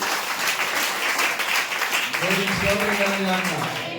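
A church congregation applauding at a Christmas service, a steady wash of many hands clapping, with a voice speaking over the end.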